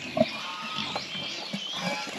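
Pigs feeding on a mixed ration of natural food and commercial feed at a farm, with faint snuffling and a few soft grunts and squeals scattered over a steady background hiss.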